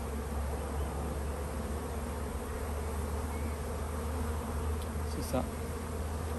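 Honey bees buzz in a dense, continuous hum during a spring hive inspection, close and steady, while a voice briefly says a couple of words.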